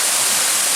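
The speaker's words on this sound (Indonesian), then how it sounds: "Mungkin inilah yang dimaksud warga sekitar bahwa ini adalah air terjun Jolotundo yang terletak di" Jolotundo waterfall at the foot of Mount Pegat roars as a steady, close, loud rush of falling water, a dense unbroken hiss with no voices.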